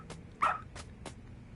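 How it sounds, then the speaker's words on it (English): A dog barks in the video game Lost Judgment, a few short, sharp barks in an irregular sequence, one louder than the rest, over quiet background with no talking. "Good dog. Very good dog."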